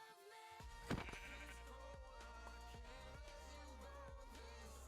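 A sheep bleats once in the video game Minecraft, a quick nasal baa standing out over a steady background of game ambience and music.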